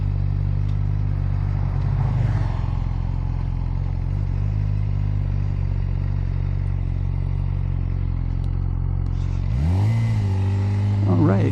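A Suzuki GSX-R motorcycle engine rumbles steadily up close at idle, then rises in pitch near the end as the rider pulls away.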